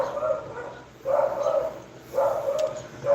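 Dogs bark in three repeated bursts of rough, sustained barking at a moderate distance, separated by short quieter gaps.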